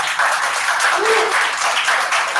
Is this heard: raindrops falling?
no